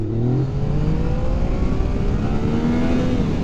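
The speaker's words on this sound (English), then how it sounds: "just close the throttle and then whack the throttle" A motorcycle engine in first gear revs hard as the throttle is snapped open for a wheelie, a loud, close, steady roar with shifting pitch over a few seconds.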